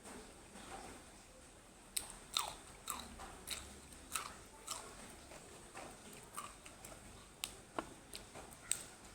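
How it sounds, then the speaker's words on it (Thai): Someone eats Isan-style eggplant soup, chewing and biting with a run of faint, close, irregular clicks and crunchy mouth sounds repeating steadily through a quiet room, with no talking. "มากินซุปอันบักเขือกับสาวสว่าง"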